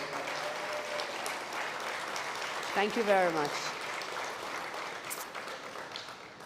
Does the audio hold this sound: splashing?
no